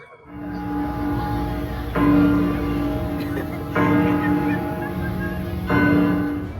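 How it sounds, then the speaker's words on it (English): Church bells ring in a theme-park village setting, deep resonant strikes repeating at roughly two-second intervals, moderately loud over a steady background rumble with some faint crowd noise. "The bells chime at the church to let the villagers know that there is a monster"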